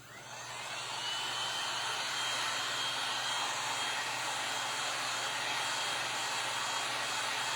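A hair dryer blows steadily on a homemade patriotic craft project, a close, loud continuous whoosh with a low hum that rises within the first second and then holds even to the end.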